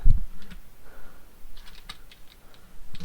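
Rapid, irregular keystrokes on a computer keyboard during a Qt C++ Tetris coding session, a run of uneven clicks with brief pauses, close and fairly clear with no talk over it.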